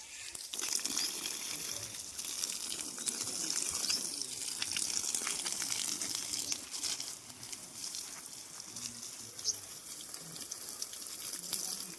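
Water from a motor-pumped tap being splashed and sprinkled after dishes are washed, a close gushing and spattering that rises and falls, with occasional crinkling sounds.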